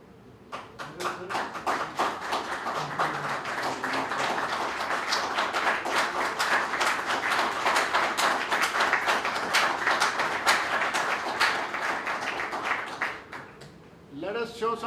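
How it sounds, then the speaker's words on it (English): An audience at a security-sector seminar applauds steadily for about thirteen seconds, a dense run of close hand claps in an indoor hall that tapers off, followed by a brief voice. "give a big round of applause once more"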